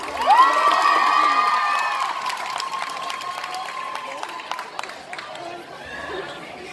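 At a cosplay contest, an audience applauds and cheers loudly, dense clapping mixed with whoops and children's shouts that slowly ebbs, after an amplified host voice rises over the start of the noise.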